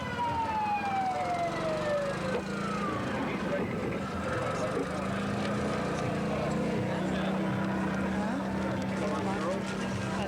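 Police car sirens wail at a 1986 small-town Keepataw Days parade, a rising-and-falling tone drifting in from a distance over steady crowd and street noise, with people talking nearby.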